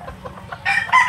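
A yellow-legged hatch gamefowl rooster at a game farm crows twice, two loud close calls after a few quieter clucks.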